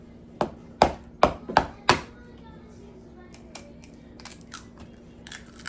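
A knife chops through two strips of bacon on a cutting board, five sharp, close knocks in quick succession followed by a few fainter taps and light kitchen rustling.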